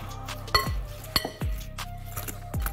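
Vegetables, egg, flour and parmesan are stirred together in a bowl, making a few sharp, fairly faint clinks and knocks of a utensil against the bowl at irregular intervals.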